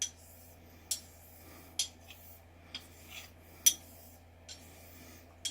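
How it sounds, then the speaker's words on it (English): A knife blade is polished on a Japanese natural sharpening stone, with quiet, evenly spaced strokes that each end in a sharp scraping swish, close up over a low steady hum. "Japanese natural stones do polish fast, and polishing is a form of metal removal."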